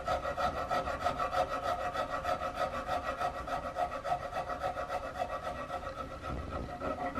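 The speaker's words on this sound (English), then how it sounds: "I'm just kind of coming in here just gently with a small rasp and just cleaning this up" A small rasp works the wooden gun stock of a Hawken rifle kit in steady, close back-and-forth strokes, a continuous gritty scraping with an even rhythm and no talking.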